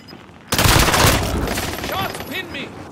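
Heavy gunfire in a video game, a dense burst of shots that starts sharply and continues loud and rapid, with a voice talking over it.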